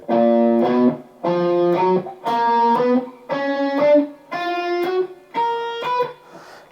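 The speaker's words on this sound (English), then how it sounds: "I'm going a semitone below each one of those tones and then coming back to the tone." Electric guitar with distortion playing six sustained phrases in a steady rhythm, each dipping a semitone below a chord tone and returning to it, close and loud with brief gaps between, no talk.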